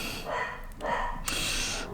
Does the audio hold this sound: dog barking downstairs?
yes